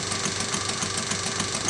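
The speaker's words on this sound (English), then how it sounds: "This is my version of Lady Stephanie beam engine." A model Lady Stephanie beam engine built at 3/4 scale runs steadily, making a continuous mechanical chugging with a fast regular knocking rhythm, close and fairly loud, with no talking.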